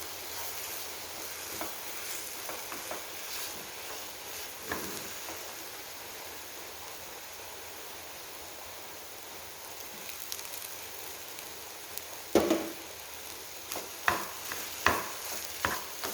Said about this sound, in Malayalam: ഈ തേങ്ങയും പഴം കൂടി നല്ലപോലെ തന്നെ ഇളക്കി യോജിപ്പിച്ചെടുക്കണം